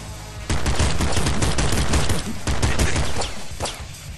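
Automatic gun in the Nuclear Throne video game firing a sustained, loud burst of rapid repeated shots that pauses briefly and resumes, then tapers off near the end, with no voices.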